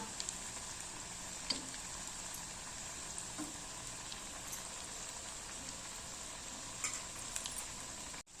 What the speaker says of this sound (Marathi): छान असं ब्राऊन कलर येतपर्यंत तळून घ्यायचं आहे आपल्याला